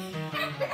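A dog barks and yips in short bursts at a Christmas family gathering, fairly close and loud, with indoor household bustle around it.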